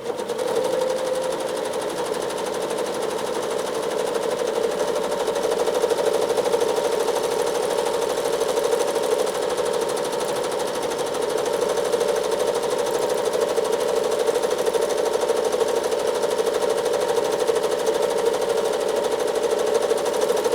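A sewing machine free-motion quilting a design into a modern quilt, running continuously at a steady fast stitch with a constant whirring drone, close and loud, no talking.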